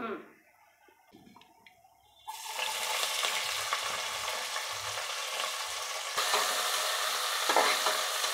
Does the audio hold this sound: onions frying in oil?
yes